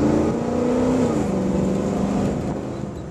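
A 1977 Ford Bronco accelerates hard during a performance test, its engine roaring loud and steady with a rising tone, heard close and continuous with no speech.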